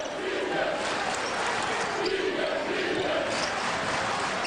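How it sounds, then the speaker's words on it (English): Basketball arena crowd cheering at a college game between SIU and Northern Iowa, a steady loud roar of many voices with occasional ball bounces and shouts. "Crowd into it."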